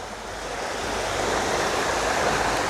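The River Irvine rushes past in a steady, full wash of flowing water, loud and close, with no voices over it.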